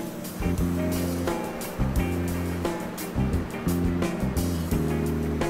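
Shallow surf washes back over a sandbar at dead low tide on a glassy evening, with a continuous rushing wash and a faint motor hum mixed in.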